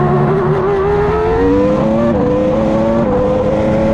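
A Cosworth V10 engine in a Formula One car revving hard, a loud, close, screaming high-pitched tone that rises and wavers steadily with no pause.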